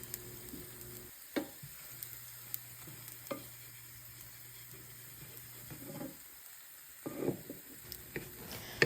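A homemade pancake fries in a pan, a soft, steady sizzle close by with occasional clinks and scraping stirs, faint overall with a louder rattle near the end.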